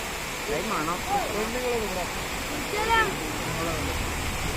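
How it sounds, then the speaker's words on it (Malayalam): A waterfall in Munnar, Kerala, rushes in a steady, faint wash of water while people talk and call out over it nearby. "വെള്ളച്ചാട്ടം കണ്ടപ്പോൾ അവിടെ കുറച്ചു നേരം സമയം സ്പെൻഡ് ചെയ്തിട്ടോ"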